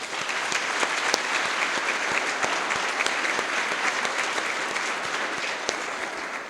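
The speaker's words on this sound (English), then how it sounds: "I would also like to ask for a round of applause for Roger and Anna Morgan" An audience at a high school academic honors dinner gives a round of applause, a dense, even patter of many hands clapping close by, with no voices over it.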